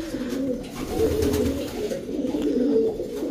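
Pigeons coo steadily in a low, throaty, rolling murmur with overlapping calls, close and continuous throughout, as several stock breeding birds sound off together.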